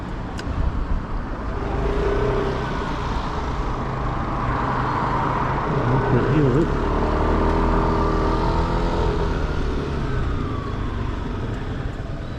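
An Aprilia SR GT 125 scooter rides slowly through Edinburgh traffic, its engine giving a steady close drone with passing vehicle noise around it, while a brief siren-like tone rises in the middle.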